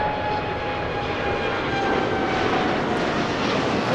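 Airplane engine at Toronto Pearson airport, a steady, loud broadband roar with a faint whine sustained throughout, no voices.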